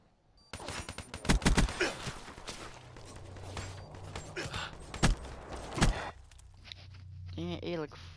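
Video game gunfire from an online shooter match: bursts of rapid shots and single cracks crowd the first six seconds, loud and close, with footsteps between them, then a quieter stretch; a voice speaks over part of the action.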